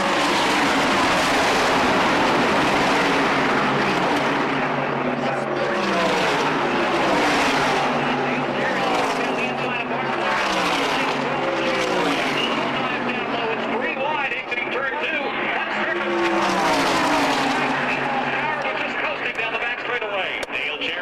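Stock cars racing on the Daytona oval in 1996, engines droning loud and continuous with repeated swells as packs of cars pass, under steady race commentary.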